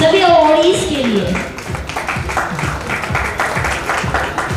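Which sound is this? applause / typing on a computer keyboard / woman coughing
applause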